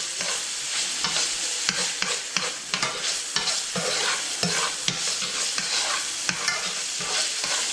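Bacon frying in a pan: a steady close sizzle and crackle with frequent sharp spatters and pops at an uneven rhythm throughout, with no voices.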